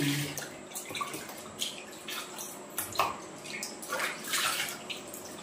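Wild mushrooms washed clean in water, with close, irregular splashing and trickling under steady running water, no talk.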